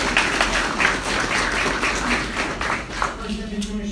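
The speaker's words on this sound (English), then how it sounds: "Please hold your applause until the remaining members of the dais are announced" Audience applause at a plaque dedication ceremony rolls on for about three seconds of steady, crowded clapping, then fades as a voice begins speaking.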